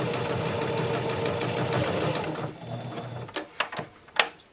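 A sewing machine stitches a fabric face mask, running steadily for about two and a half seconds, then stopping, followed by several sharp, separate clicks and taps close by.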